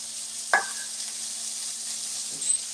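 Chicken cubes for Mongolian chicken fry in a pan, giving a steady hiss of sizzle throughout, with a louder stir and splatter burst early on and a smaller one near the end.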